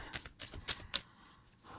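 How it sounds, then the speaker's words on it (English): A deck of tarot cards is shuffled by hand in a few quick riffling bursts of papery flutter, close and fairly quiet, with no voices. "It's really well shuffled."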